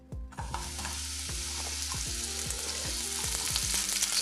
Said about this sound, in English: And now we're gonna add in some of our mushrooms.